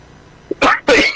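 Two harsh, loud coughs in quick succession, close by, after a brief throaty sound.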